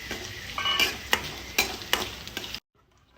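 Broken green chillies stir-fried in hot oil after garlic for puliyogare, a steady sizzle with several sharp clinks of a stirring spoon against the pan, then abrupt silence near the end.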